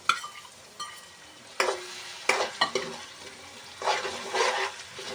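Tomatoes tumble into a pan of frying ginger, garlic and onion, then get stirred with a spoon, giving close scraping strokes and bursts of sizzling that swell and fade over several seconds, with no voices.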